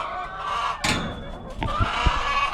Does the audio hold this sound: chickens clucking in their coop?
yes